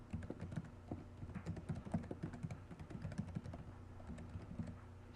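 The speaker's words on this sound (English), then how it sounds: "let's go ahead and type that in the address bar" Soft, steady typing on a computer keyboard while entering a website address, quick irregular key taps at low volume running throughout with no talking.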